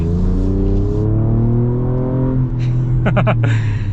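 A 2024 Ford Ranger Raptor pickup accelerates hard, its engine note climbing steadily through the gears with a brief shift dip, loud and close from inside the cab, with no talking.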